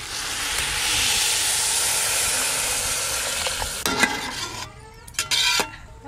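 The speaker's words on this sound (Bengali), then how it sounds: "এবার আমি পরিমাণ মতো জল দেব।" Water poured into a hot pan of frying pea rice, a loud broad sizzle and steam hiss that fades, followed by a few scraping stirs near the end.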